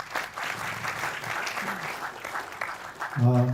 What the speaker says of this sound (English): a big round of applause for IFI for organizing this.